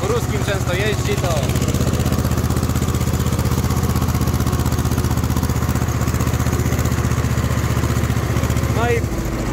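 An Ursus C330 tractor pulling a 1.8 m disc harrow runs with a loud, steady chugging engine drone throughout, with brief voices at the start and end.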